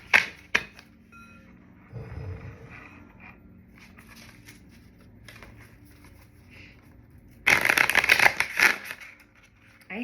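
Oracle cards are shuffled in short bursts: a quick flick at the start, quiet handling, then a longer, louder riffle near the end.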